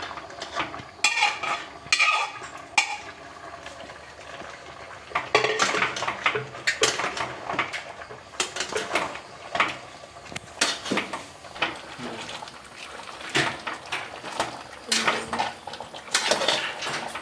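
Tapioca is tipped into a pot of boiling water and stirred, with repeated close metallic clatters and scrapes of a spoon against the pot across the whole stretch, steady and busy.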